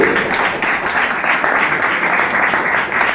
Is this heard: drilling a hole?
no